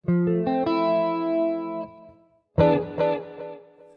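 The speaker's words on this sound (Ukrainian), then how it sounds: "Там дуже гарно додати ділею. І вкупі це звучатиме так." A guitar played with a delay effect for a Sasha Chemerov song, 'Mama': picked and strummed chords ring out with repeating echoes, pause briefly, then another chord burst with trailing repeats.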